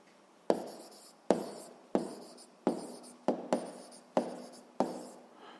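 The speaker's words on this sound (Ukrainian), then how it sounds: "записуємо відповідь" A pen scratches out an answer to a grade 7 physics exercise on paper in about eight distinct, close strokes, each a sharp touch-down that fades quickly, spaced at a fairly steady rhythm.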